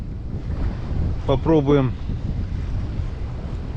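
Steady wind blowing over open water around a fishing boat on a river with a north wind, a low continuous rush across the clip, with a brief spoken word in the middle.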